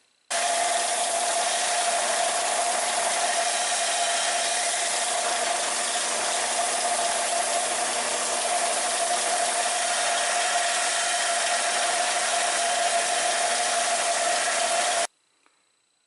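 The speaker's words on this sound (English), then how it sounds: "I'm putting an 80 grit belt on this flat sander here so that we can get a more rapid removal of metal." A flat belt sander with an 80 grit belt grinds antique horseshoe steel, giving a loud, steady abrasive whine with a constant tone that runs unbroken for about fifteen seconds, then stops abruptly.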